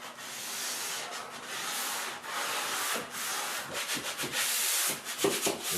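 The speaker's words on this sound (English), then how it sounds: "we just press the sponge into that detail and it'll sand" A sanding sponge scrubs a wooden window frame with close, raspy back-and-forth strokes, long at first and then shorter and more rapid as it works into the detail.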